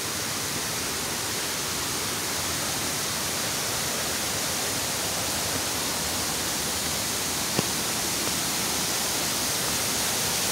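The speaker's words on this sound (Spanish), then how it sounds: "Ese es el río Guastena aquí" The Guastena river flowing through Llano Grande, a dense, even rushing roar that holds steady and fills the whole stretch, with no talk and one brief sharp tick partway through.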